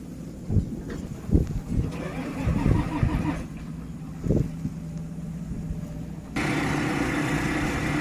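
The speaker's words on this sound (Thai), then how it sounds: "ติดเครื่องแล้วค่ะ" A backhoe engine starts outdoors at a field site where a stuck rice harvester is being recovered, the motor catching and settling into a steady, loud idle rumble after some earlier thumps and wind.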